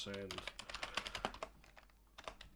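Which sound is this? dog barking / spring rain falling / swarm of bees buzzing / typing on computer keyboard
typing on computer keyboard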